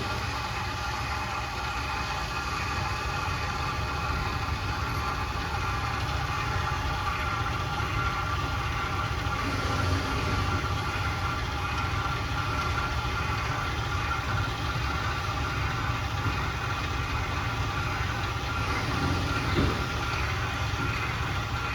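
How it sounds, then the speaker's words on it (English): Electric motors of the stabilizer jacks on a 2016 Forest River Salem 26TBUD travel trailer drone steadily under load, a continuous close mechanical hum and whine with no talk. "once they come down all the way, you'll be able to hear kind of a bit of a load on the motors"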